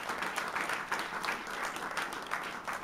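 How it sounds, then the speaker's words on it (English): An audience at a political event with Congressman Schuck breaks into steady applause, many hands clapping in a dense, continuous patter heard at a moderate distance. "let's give Congressman Schuck a huge round of applause"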